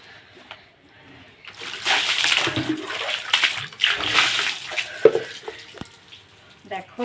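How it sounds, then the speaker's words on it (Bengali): A person bathing splashes and pours water in a washing space, giving steady bursts of sloshing and splattering, with a voice speaking now and then. "দেখো আমি এই যে স্নান করছি।"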